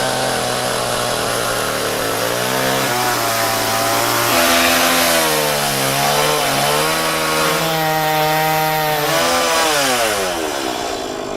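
A small chainsaw cuts shallow marker cuts into wood for a carving. The engine is loud and steady throughout, with its pitch rising and falling as it revs and bites into the wood, and no voices.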